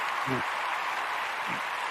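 Audience applause at a live comedy show, a faint steady wash of clapping throughout with a couple of brief voices over it.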